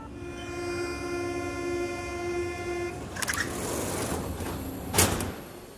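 Metro train ride inside a carriage, a steady rumbling hum with a sustained tonal whine that cuts off, followed by sliding door and clattering rail noises and a sharp bang near the end.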